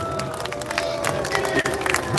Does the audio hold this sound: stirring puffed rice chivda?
no